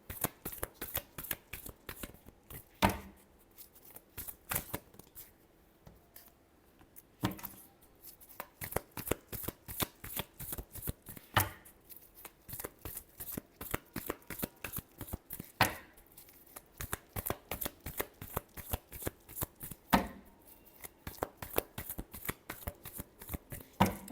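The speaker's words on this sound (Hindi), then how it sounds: "Last shuffle." Tarot cards are riffled and shuffled close by in a quiet room, a long run of rapid crisp card flicks with brief pauses and a few sharper snaps as the deck is squared.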